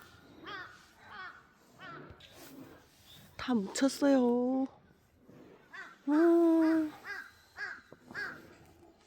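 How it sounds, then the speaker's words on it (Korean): Birds caw outdoors beneath an overcast sky near a country house at the foot of a mountain, giving a few loud, harsh calls that rise above the surrounding chatter while someone speaks nearby. "새들은 안춘가 깍깍대고"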